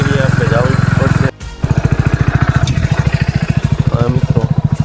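A motorbike engine on a Gujarati vlogger's ride to work chugs loudly and steadily, briefly cutting out before firing up again into a strong throbbing idle, with a voice speaking over it.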